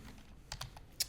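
Quick, light keystrokes on a computer keyboard, a handful of soft clicks in an irregular burst, faint and close, with no talking over them.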